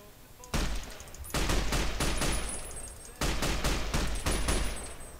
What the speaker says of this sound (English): This is the marksman rifle.